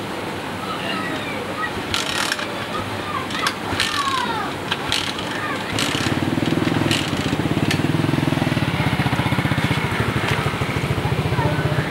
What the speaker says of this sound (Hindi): ये ना मेरी बाइक नहीं स्टार्ट हो रही